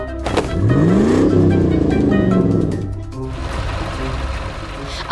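A tractor engine in an animated scene revs loud and close, its pitch sweeping up and then easing down, before settling into a lower steady drone as it rolls back onto the road.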